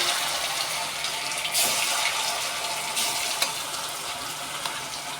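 Potato pieces fry in hot oil seasoned with cumin, bay leaf and dry red chillies, giving a steady, close hiss with a few brief louder bursts and no talking.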